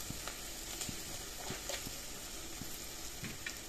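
Salt, turmeric and chili powder sizzling in oil in a pan while being stirred for an Assamese fish curry, a steady close hiss with soft, regular scrapes of the spoon, no talking.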